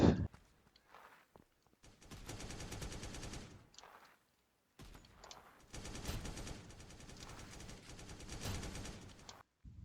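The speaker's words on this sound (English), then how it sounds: "We're going to do shotgun jumping as that's part of obviously shotgun's movement." Shotgun fire and movement in the Deadshot.io video game come as two long stretches of rapid, dense firing. Short quiet gaps and soft footstep-like movement separate them, all faint in the game mix.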